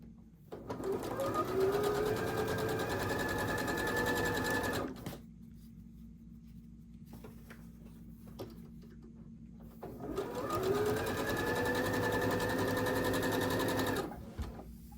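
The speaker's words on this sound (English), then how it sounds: "when I'm sewing this, I'm going to sew down this straight edge" A sewing machine stitches a quilt triangle unit along a straight edge in two long steady runs, loud and close, separated by a quieter pause.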